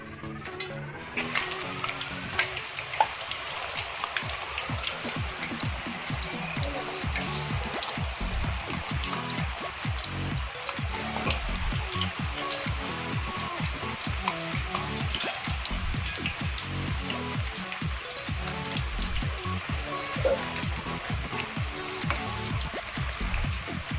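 Continuous crackling and sizzling of banana slices frying in hot oil for chips, a dense, even spatter that carries on steadily with no voices.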